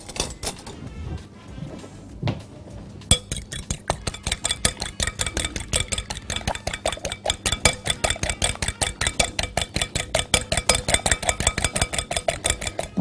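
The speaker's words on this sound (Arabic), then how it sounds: "تمام، ضربنا البيض اهو" Eggs and vanilla are whisked in a bowl for savoury cheese and cumin biscuits. A quieter start gives way to rapid, steady, evenly spaced clicking strokes close by.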